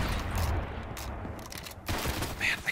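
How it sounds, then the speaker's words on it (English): Shotgun fire in the video game Destiny comes as a dense burst of game gunfire and impacts that keeps going for most of the clip, layered with other effects and no talking. "I think I'll pull out my shotgun and see if I can get a shot off in time."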